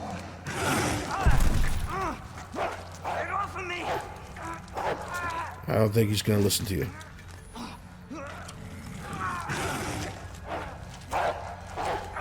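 A zombie dog in the 2019 Resident Evil 2 remake, with mods, gives short barks amid sharp game bursts and clatter, while a player talks over much of the action.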